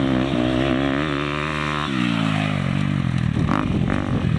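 A motocross bike brakes hard, its rear wheel chattering. Loud, close engine drone shifts pitch, then breaks into a rough, irregular stutter toward the end.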